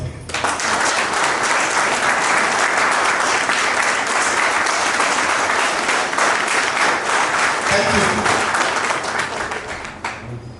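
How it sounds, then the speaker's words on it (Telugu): Loud, sustained applause from a large crowd greeting a life and business trainer's grand entry, dense clapping at a constant level for several seconds, close and full. "గట్టిగా చప్పట్లు"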